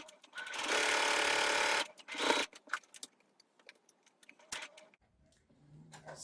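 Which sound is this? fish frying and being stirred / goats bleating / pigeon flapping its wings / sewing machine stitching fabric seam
sewing machine stitching fabric seam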